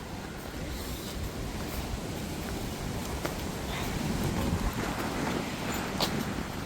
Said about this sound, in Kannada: ಇಲ್ಲಿ ಇದು ಬ್ಲ್ಯಾಕ್ ಸ್ಯಾಂಡ್ ಬೀಚ್.